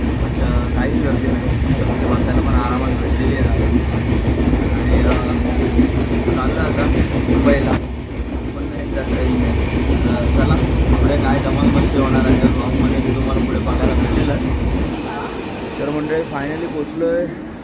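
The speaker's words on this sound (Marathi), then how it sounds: "फायनली ट्रेनमध्ये चढलेलो आहे आणि ट्रेन पूर्ण खाली आहे" A Mumbai local train rumbles and rattles steadily along the tracks, loud and continuous, with voices talking over it.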